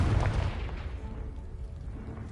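A Confringo blast spell in Hogwarts Legacy explodes at once with a heavy low boom that rolls away into a rumbling decay over about two seconds, with no talking.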